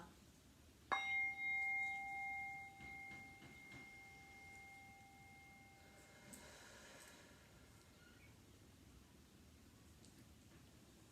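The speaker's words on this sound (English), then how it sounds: "Let's ring the bell." A small classroom bell struck once, giving a clear ringing tone that sustains and slowly fades over several seconds in an otherwise quiet room.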